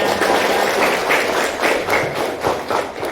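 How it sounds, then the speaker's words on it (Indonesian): Schoolchildren in a civics class burst into loud, dense applause, a close, steady patter of many hands that swells in a few waves over three seconds. "Tepuk tangan yang keras"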